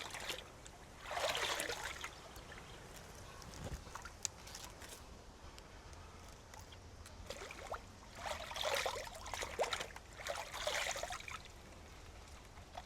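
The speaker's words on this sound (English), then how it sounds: "my rain barrel is full, nice clean water, and I just dunk them a few times." Peony flowers dunked several times into a full rain barrel of clean water, giving two bursts of splashing and trickling separated by quieter dripping, fairly close.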